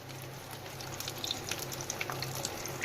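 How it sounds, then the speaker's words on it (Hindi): Fish fingers coated in gram flour frying over low heat in a pan, a steady close sizzle with scattered crackling pops throughout, no talking. "अब बिल्कुल हमने 10 से 15 मिनट के लिए इसको हल्की आंच पे फ्राई करना है"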